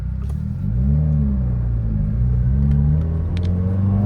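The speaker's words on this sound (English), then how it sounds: "Definitely loud with that exhaust on it." Loud, close rumble of a 2021 Subaru WRX with an aftermarket exhaust, engine pitch rising and falling as it accelerates on a back road, steady and unbroken with no voices.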